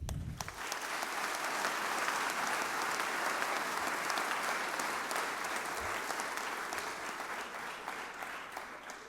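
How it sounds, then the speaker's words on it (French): Audience applause fills a graduation ceremony hall, a dense sustained clapping from a large crowd that swells quickly and holds steady, slowly easing toward the end. "Merci de les applaudir."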